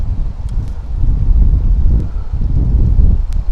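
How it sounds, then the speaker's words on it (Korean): Strong gusting wind buffets the microphone on a clifftop, a loud low rumbling roar that swells and dips steadily, with a few faint clicks. "바람이 너무 불어가지고"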